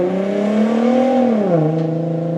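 A Nissan GT-R engine idling close up, a steady droning hum whose pitch rises slightly then drops and settles lower, loud and alone without talk before cutting off abruptly.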